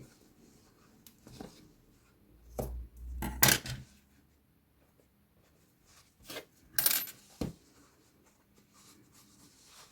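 Scissors snip through crochet yarn strands in a couple of short, close, crisp bursts, with quiet handling noises between cuts and near silence around them.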